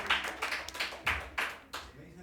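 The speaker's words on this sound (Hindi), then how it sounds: "उसके लिए जोरदार एक बार ताली" A small group at a quiz competition claps for a round winner, with a handful of uneven, close bursts of hand claps and talk running under them.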